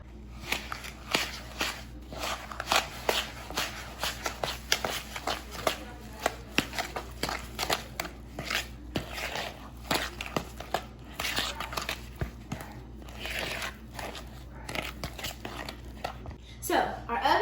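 Peanut butter cookie dough with vanilla is stirred and mashed in a bowl, giving close, irregular scraping and squishing strokes that run steadily under a speaking voice.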